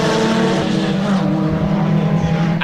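Ford Fiesta race cars during a championship round at Snetterton circuit, engines droning loudly and steadily as they pass on track, with a rising and falling note and no talk.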